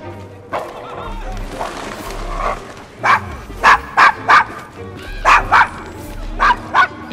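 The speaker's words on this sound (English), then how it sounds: "Is your dog quite all right?" A dog in Assassin's Creed Syndicate barks in a series of sharp, evenly spaced woofs that follow a softer rumbling stretch, fairly loud and near, with game ambience beneath and no speech.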